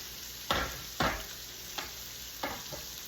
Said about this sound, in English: stir that for just a minute, and let that butter get nice and melted